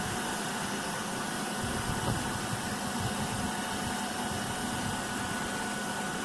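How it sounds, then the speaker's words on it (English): An electric motor running at no load during a Hopkinson test, giving a steady whirring hum with a fan-like hiss that holds constant throughout and has no voices over it. "the motor has almost reached its no load position"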